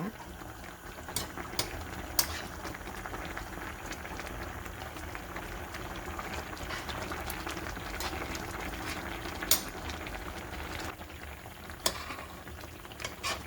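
Mackerel and aged kimchi braise boiling hard on high heat, with a low, steady bubbling and simmering that runs throughout and faint clinks now and then.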